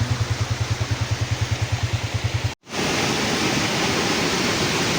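Flooded stream rushing during heavy rain in Kashmir: a dense, loud, continuous roar of water, briefly preceded by a rapid pulsing mechanical throb and broken by a short cut before the steady torrent resumes.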